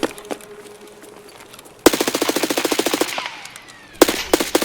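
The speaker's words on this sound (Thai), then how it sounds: "ผมยิงมันตายแถวจุดออกรถเลย" Automatic gunfire in the video game Escape From Tarkov: a single early shot, then a long rapid burst of loud shots, followed by another short burst near the end.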